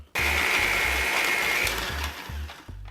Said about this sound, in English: All right, so we have our butter mostly mixed with our sugar.